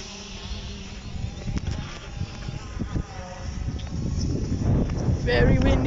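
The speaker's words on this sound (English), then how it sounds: "It's kind of windy. It's very windy today." Strong wind buffets the microphone outdoors during a drone flight test, a steady roaring rumble that grows louder toward the end, with a faint motor whine above it.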